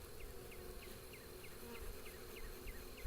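Honey bees in a hive give off a steady, faint hum, with individual buzzing wingbeats repeating over it throughout.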